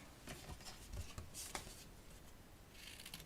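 Scissors snip paper at an angle for Valentine treat boxes, giving several crisp, quiet cuts with paper rustling in between, close and faint.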